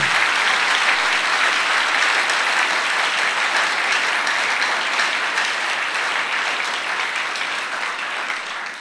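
A church congregation applauds loudly and steadily, a dense unbroken wash of clapping that holds for the whole stretch and only slightly tapers at the end.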